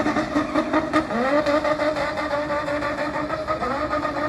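A car engine revs at a custom car show, loud and close, its throaty tone rising and falling through repeated throttle blips over a rough, steady idle.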